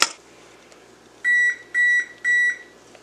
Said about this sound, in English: There's my oven. It's done preheating at 300 degrees.